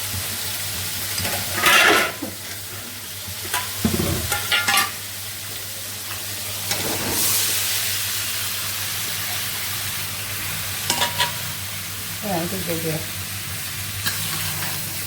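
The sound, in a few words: vegetable curry being stirred into fried spices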